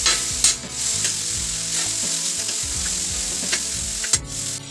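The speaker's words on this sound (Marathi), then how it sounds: "आता टॉमॅटो व्यवस्थित मॅश होईपर्यंत आपल्याला हे ढवळून घ्यायचं आहे" Tomatoes, onions and chillies frying in a pan while being stirred, a loud continuous sizzle with repeated scraping strokes of the spoon, close up and without talk.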